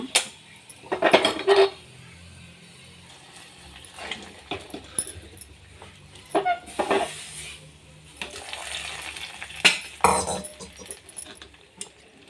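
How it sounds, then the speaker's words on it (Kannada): Hot tempering is poured into avarekai sambar in a home kitchen, heard as several short clanks of metal pots and a spoon against the vessel, with a brief sizzling splash between quieter gaps. "ಒಗ್ಗರಣೆಯು ರೆಡಿಯಾಗಿದೆ. ಸಾಂಬಾರಿಗೆ ಹಾಕೋಣ."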